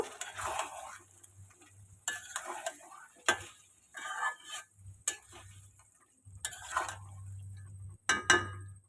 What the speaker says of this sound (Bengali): চিকেনটা একটু নাড়িয়ে দেব